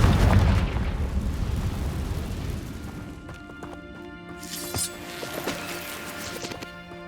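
A loud Confringo blasting spell explodes in Hogwarts Legacy, a heavy booming burst that rumbles and decays over several seconds before softer magical chimes and tonal game effects take over.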